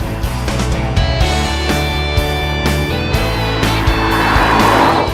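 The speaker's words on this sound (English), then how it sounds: "I, definitely not Alex Kirsten, am driving a Fiat Multipla." A Fiat Multipla is driven with a loud, steady engine drone whose pitch shifts as it moves, marked by a few sharp knocks and rattles, with no voices.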